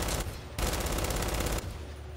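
Loud, continuous automatic gunfire from the video game Gears 5 on Inconceivable difficulty, a dense rattling burst lasting about two seconds with no voices over it.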